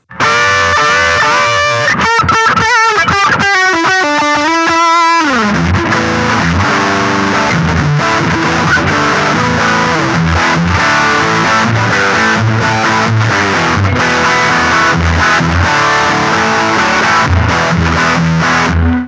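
Electric guitar through an Orange Crush 20RT amp with high gain distortion: a few clean, ringing notes open, then heavily saturated, loud chugging riffs and sustained chords drive on to the end with no talk.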